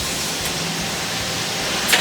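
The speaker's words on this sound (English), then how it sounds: "That is the sound of the granules falling through the trapdoor below," Plastic granules pour through a trapdoor into bags, making a steady, even hiss like falling rain, with a faint tap or clack near the end.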